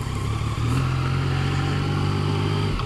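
A Yamaha FJ-09 motorcycle rides along in first gear, its engine holding a loud, steady mid-pitched drone close by, with a slight dip early on and no talking.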